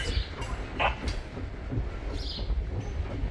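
Train slowly backing up on a shortline railroad in Durand, a low rumbling drone with faint clanks and squeaks, heard from nearby without talk.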